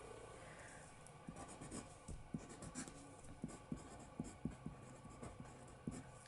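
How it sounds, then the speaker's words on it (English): Pen or pencil writing notes by hand on paper during a geometry lesson on pyramid surface area, faint close strokes with a run of soft taps and scratches, no talking. "So let's just go ahead and write that down."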